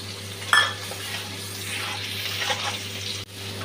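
Spice paste of ground cumin, coriander, chilli and turmeric hits a hot pan with a close, steady sizzle and hiss, plus a brief stirring scrape near the start; the frying goes on with no talking.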